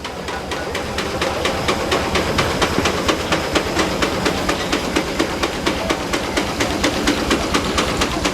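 Antique engine running at a gas and steam show in Maryland, its governor kicking in, giving a steady fast rhythmic chuffing and clatter with hissing, loud and continuous throughout.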